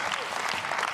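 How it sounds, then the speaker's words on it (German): Brief burst of steady, dense applause in the German Bundestag as a parliamentary group claps for its speaker. "bekommt den Applaus seiner Fraktion"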